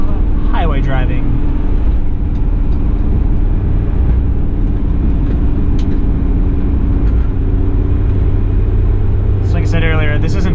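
A 1991 Toyota Land Cruiser PZJ70 diesel 4x4 drones steadily with a loud low engine and road rumble at highway speed, heard from inside, with brief voices at the start and end.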